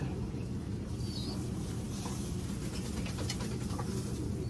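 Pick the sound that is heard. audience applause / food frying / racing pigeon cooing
racing pigeon cooing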